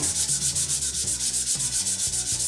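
A turned wooden three-legged stool is sanded on a lathe, giving a steady, close rasping rub with a fast rhythmic pulse as the spinning wood passes under the abrasive, with no talking.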